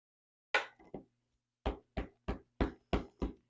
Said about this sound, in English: first thing I need to stamp 2 penguins